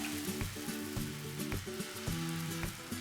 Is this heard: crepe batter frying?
yes